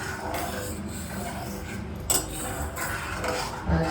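A spoon mixes custard powder into milk in a bowl, soft scraping and swirling with a couple of light metallic clinks, close and fairly quiet.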